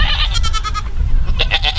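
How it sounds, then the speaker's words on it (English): Billy goat on a farm bleating close to the microphone in a few quick, wavering bursts over a low background rumble. "One of my other billy goats there"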